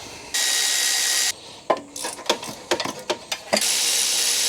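A 12mm wrench working bolts on a small bracket during water pump removal on a 3S-GE engine in an Altezza, heard as a burst of hiss followed by a string of sharp metallic clicks and ratcheting taps, close up.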